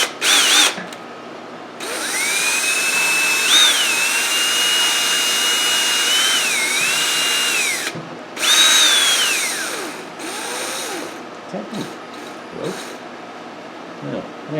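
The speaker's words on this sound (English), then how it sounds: "I'm going to try this drill thing again." A power drill whines at high pitch for several seconds, its speed rising and dipping, stops, then revs briefly again before quieter handling sounds, during valve work on a 1971 Honda CB175 motorcycle.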